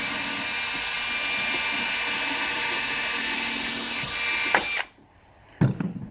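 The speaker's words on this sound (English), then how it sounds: "I'm going to drill a hole into this piece of wood" A power drill bores a pilot hole into a piece of wood, whining steadily and loudly for nearly five seconds before cutting off, followed by a few faint handling clicks.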